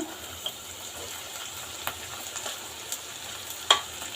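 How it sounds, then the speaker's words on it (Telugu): Rice is tipped into a hot pan for street-style chicken fried rice, giving a soft, steady sizzle broken by a few light clinks and scrapes of a utensil. "ఇప్పుడు రైస్ వేసేసుకుందాము రైస్ వేసేసుకుంటున్నాను నేను"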